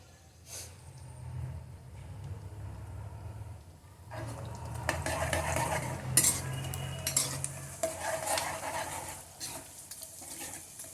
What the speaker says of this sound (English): You should fry this gundar at slow flame.